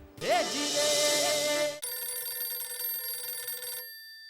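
A phone ringtone plays loudly, first a rising warbling chime, then a steady electronic ringing pattern that cuts off abruptly.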